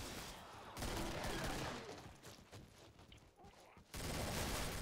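Rapid gunfire from the video game Killing Floor comes in dense bursts, loud at the start and end with a slightly quieter stretch in between.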